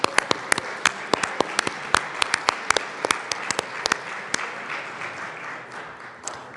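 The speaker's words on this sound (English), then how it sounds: "let's give them a round of applause for the CU Government Relations class" Applause in a state legislative chamber, the Colorado House of Representatives, greeting a visiting university government relations class: scattered, moderately loud claps that start crisp and separate, then thin out and fade toward the end.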